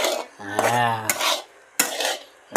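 A spoon scrapes and clinks against a cooking pot while a vegetable curry is stirred, producing a few close, rasping strokes with metallic knocks, interrupted by a brief vocal sound.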